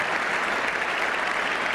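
A cricket crowd around the ground applauds a 100 partnership, a steady wash of distant clapping that fills the whole moment without a break.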